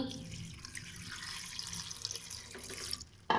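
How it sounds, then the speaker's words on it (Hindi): Water runs and splashes into a metal pressure cooker holding vegetables in a steady pour, fairly quiet and close, ending with a brief clank. "देखिए यहाँ मैंने कुकर में ये सारी चीज़ें डाल दी हैं और मैं अब इसमें डाल रही हूँ पानी"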